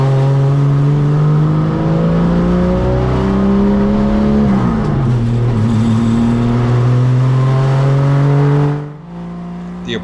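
An HQ Holden race car engine roars loudly at high revs on the Baskerville circuit, pitch dropping briefly as it shifts gear then climbing again, with a sudden dip near the end.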